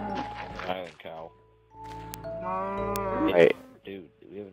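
Mooing from a penned cow in a survival island video game, one long rising call in the middle, framed by a person speaking before and after.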